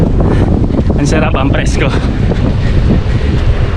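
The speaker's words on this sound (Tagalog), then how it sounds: "Ang lakas na ng hangin dito." Strong wind buffets the microphone in a constant loud roar outdoors along a running route, with a person talking briefly over the rumble.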